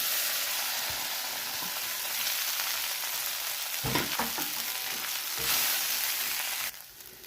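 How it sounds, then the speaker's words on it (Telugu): Peanuts fry in hot oil with mustard seeds and cumin, giving a steady, close sizzle with brief bursts of stirring and spluttering partway through, then a quieter tail. "ఆవాలు జీలకర్ర వేసినప్పుడు పల్లీలు వేసేయాలండి"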